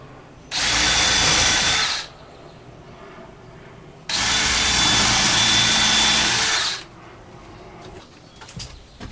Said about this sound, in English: Drill my 2 pilot holes.